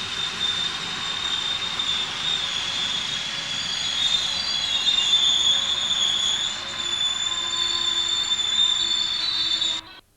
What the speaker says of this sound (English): This is followed by train 6E52, stone from Peak Forest to Peterborough.